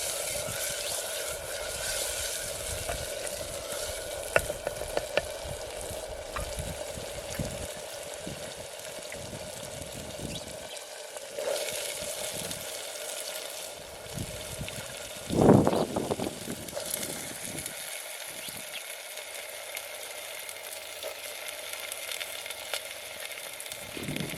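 Green chickpeas tipped into cooked frying masala in a village kitchen, a continuous loud sizzle with a splashy pour-like burst midway, steady hiss throughout.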